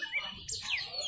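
An oriental magpie-robin sings at a songbird contest, giving quick bright whistled chirps and sweeping notes, fairly close, with a low hum of background activity beneath.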